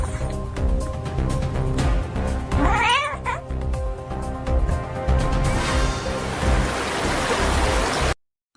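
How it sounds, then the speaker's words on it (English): Two cats face off indoors, with loud, drawn-out caterwauling and yowling rising into sharp meows. The noise builds and ends abruptly in a scuffle. "Cat flicks its tail at another cat, triggering a sudden indoor standoff that escalates fast."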